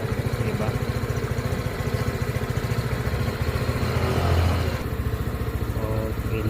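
A Samurai 155 motorcycle engine runs close by with a rapid, even pulsing beat, swelling briefly in revs before settling back to a steady throb.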